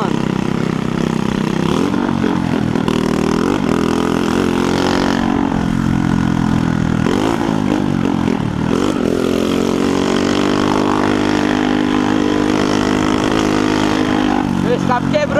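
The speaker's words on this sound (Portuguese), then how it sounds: "meu escape quebrou, mano." A motorcycle with a broken exhaust revs and drones loudly nearby, engine pitch rising and falling in waves over about fifteen seconds, with a voice talking over it.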